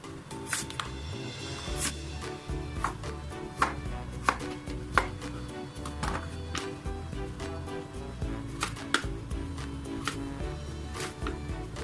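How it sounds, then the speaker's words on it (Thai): A knife chops taro into pieces steadily on a cutting board, sharp knocks coming at an irregular but regular-feeling pace, close and clear with no talking. "แล้วก็หั่นเผือกเป็นชิ้นๆ นะคะ"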